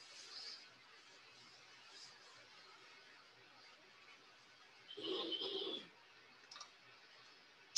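A computer mouse clicks sparsely during spreadsheet work, small faint taps spaced apart over quiet background, with a short burst of other sound in the middle.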